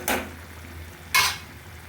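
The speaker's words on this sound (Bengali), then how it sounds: "চামচ দিয়ে নেড়ে চেড়ে দিবে যাতে ভেঙে না যায়।" Two quick scraping strokes of a spoon stirring a small-fish curry in a pan, each short and close, with a gentle sizzle in between and no talking.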